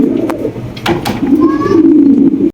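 Fancy pigeons coo in a low, throaty drone up close, with a few sharp knocks and a faint whistle-like tone mixed in.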